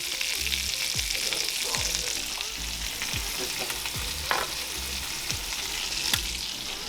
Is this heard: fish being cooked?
yes